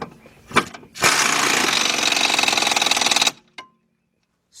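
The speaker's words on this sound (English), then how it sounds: "The first thing we're going to do is tighten up the 21mm bolts." A power tool rattles in a loud, hammering burst of about two seconds as it tightens the 21mm starter bolts on a 2007-2010 Audi A8 Quattro, preceded by a short blip and followed by a brief final tap.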